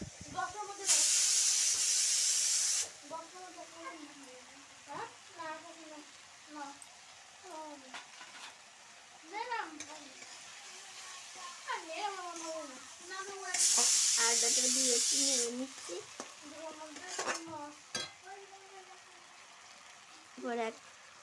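Ginger paste hits hot oil in a pan for a fish curry, giving two loud, close bursts of sizzling hiss, with a voice talking between and over them.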